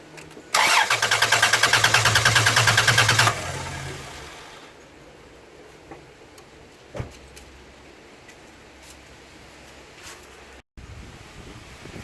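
A car with a cylinder misfire cranks loudly and close by for about three seconds in an even, rapid churn, then drops to a low background rumble with a single soft knock.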